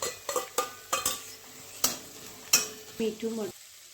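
Boiled corn and capsicum are added to a pan for a cheese corn chaat and stirred, producing a quick series of close metallic clinks and scrapes from the spoon over a soft sizzle that stops abruptly.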